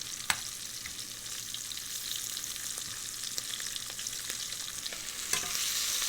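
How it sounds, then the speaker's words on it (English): Shrimp fry in hot oil in a pan with a steady close sizzle and crackle, punctuated by a few sharp clicks as they are tossed around. "Just do a few at a time. And toss them around. Get them fried on both sides."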